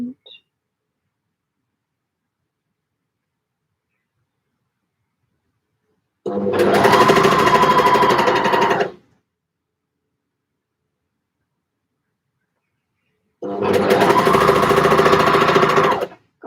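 A sewing machine stitches knit fabric in two steady runs of about two to three seconds each, a loud even motor whir separated by long silences.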